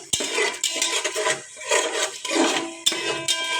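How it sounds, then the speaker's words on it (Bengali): Fish and vegetable curry is stirred inside a rice cooker pot, with repeated close metallic scrapes and clinks of a utensil against the pot in uneven strokes, and no talking. "নেড়ে চেড়ে ভালোভাবে নেড়ে চেড়ে দেবো"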